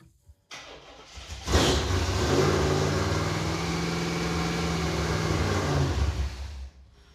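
A fuel-injected Chevrolet Impala engine cranks, catches and revs up to 2,500 rpm with a rising roar, holds for a few seconds, then sputters and dies into silence.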